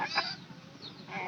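A hen, one that may be about to lay after recovering from broodiness, gives a short nasal call, followed by a fainter second cry; distant and brief with low background noise.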